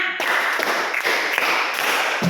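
A classroom of students claps together in a dense, continuous wash of many hands, fairly loud and close, sustained for a couple of seconds without any clear spoken words.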